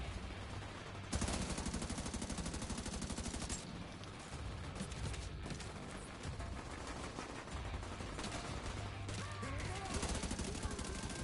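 Deployable turret in the video game The Division 2 firing in sustained rapid bursts, loud and continuous automatic gunfire with brief breaks, mixed with other combat noise.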